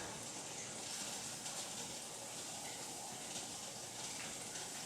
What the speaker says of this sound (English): it's also letting extra steam out from this little valve back here.